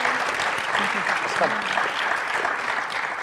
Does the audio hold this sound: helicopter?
no